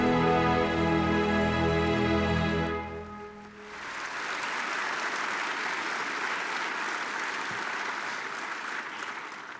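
Sustained audience applause at the 2021 Space Symposium opening ceremony honoring the 2020 awardees, a steady broad clapping that rises after music fades out and continues evenly through to the end.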